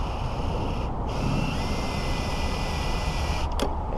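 Steady grinding whine of a key cutting machine with a worn bearing, cutting slowly, continuous and loud with brief dips in the high whine.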